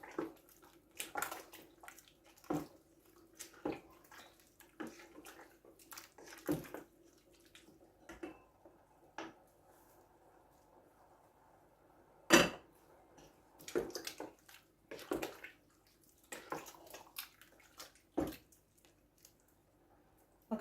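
A spoon stirring tomato marmalade with lemons in a pot, giving quiet wet squishes and occasional scrapes and knocks against the pot at an irregular pace, close and faint.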